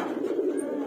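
Female breeder pigeons in a loft give a soft, steady low cooing murmur that fills the short moment without a break, moderately close and fairly quiet, with no voices.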